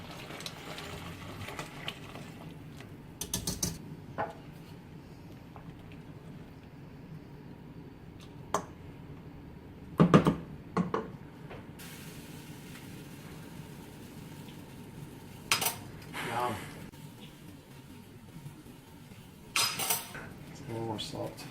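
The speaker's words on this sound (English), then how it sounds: "I might try to whisk it actually a little bit." Metal whisk clinking against a pot as cashew cream is stirred into mushroom bone broth soup, sparse scattered taps and scrapes at close range with a quiet kitchen background.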